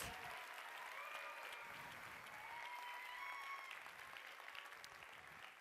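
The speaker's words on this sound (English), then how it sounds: "Yeah, please, let's give him a round of applause" An audience claps for a presenter named Randy at a market trends event, a continuous steady round of applause, quiet and somewhat distant, with faint voices underneath.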